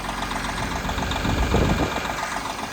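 A 1996 Kenworth truck engine idles in cold weather with a steady, close, heavy diesel rumble and a faint knocking texture. It runs unbroken for the whole stretch, with no voices.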